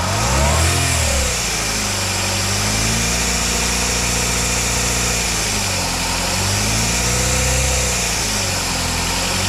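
Car engine revved to about 2,000 rpm after an oil seal replacement, a loud close steady drone that rises and falls in pitch with a few throttle swells.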